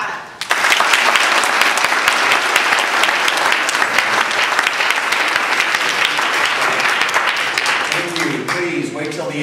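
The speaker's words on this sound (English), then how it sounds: "So please put your hands together for Blaine Rada." A conference audience gives the speaker loud, sustained applause: dense, close clapping that starts abruptly and carries on for several seconds, with some voices underneath.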